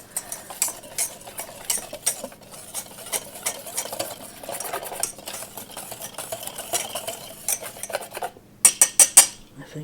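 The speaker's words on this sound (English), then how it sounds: "So I'm going to whisk it together to blend it nicely." A whisk blends organic bread flour and organic whole wheat flour in a bowl, giving steady rapid scraping and clicking with a few louder taps against the bowl near the end.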